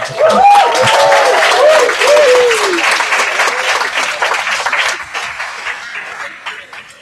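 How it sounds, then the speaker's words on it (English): An audience at a panel debate applauds loudly with dense clapping that gradually fades, and a voice is briefly heard at the start. "it's worth everybody giving a huge round of applause for Michael, for Matt"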